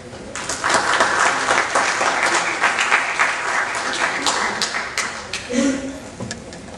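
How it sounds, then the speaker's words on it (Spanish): An audience at an arbitration lecture applauds to welcome a speaker to the podium. The clapping is steady, dense and fairly loud, lasting about seven seconds with no break. "Recibamos pues con un fuerte aplauso a la doctora Viviana Carolina Moncada."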